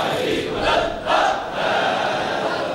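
A crowd at a Shia majlis in Karachi shouts a religious slogan together, a loud, dense roar of many voices that swells in a few surging waves.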